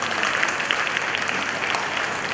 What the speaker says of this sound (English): Let's give a loud applause